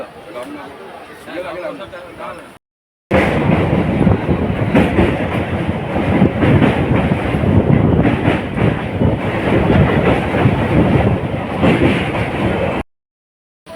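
A passenger train from Santragachi to Digha rumbles steadily along the tracks with a dense, loud rattling roar, cut by two brief silent gaps, and a voice talks over it.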